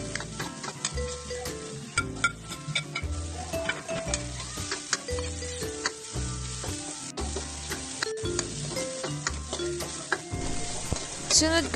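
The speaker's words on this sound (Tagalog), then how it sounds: "Pag natunaw na yung butter, magigisa na ako. Una kong ihuhulog ay yung bawang. Then sunod yung sibuyas at luya." Garlic, then onion and ginger, sautéing in melted butter in a pan for chicken adobo, giving a steady sizzle with stirring sounds, while tonal, music-like notes run throughout the clip.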